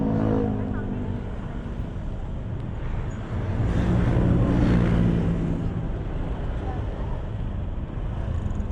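Steady road traffic in a jam in Bogor, a continuous low rumble of idling and creeping car engines that swells as vehicles pass close by, with people talking over it.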